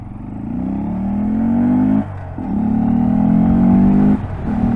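A Honda GROM minimoto pulling out into traffic, its small single engine droning and rising in pitch as it accelerates through the gears, with two brief dips between shifts, close and loud with no talk.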